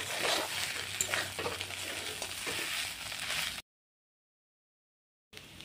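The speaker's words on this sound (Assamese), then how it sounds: "ভালদৰে আৰু অলপ টাইম ভাজি ল'ম।" Fish curry fries and sizzles in a pan while a utensil stirs and scrapes through it, a busy close crackle for several seconds before it cuts to silence, then returns briefly.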